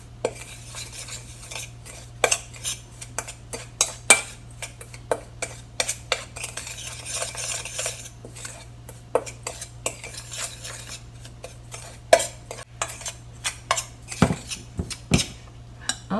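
A spoon or whisk scrapes and clinks around a bowl while a warabimochi mixture with sugar is stirred, irregular close taps and scrapes over a steady low hum, with no voices.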